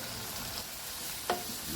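Marinated beef and its marinade sizzle in a frying pan for Filipino beefsteak, a constant hiss broken by one brief stirring scrape.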